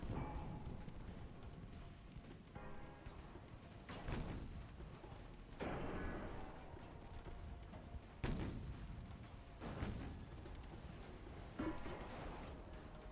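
Torpedo hits and explosions against warships in Ultimate Admiral: Dreadnoughts, heard as several deep booming blasts spaced a couple of seconds apart over a continuous low rumble of naval battle, fairly distant and muffled.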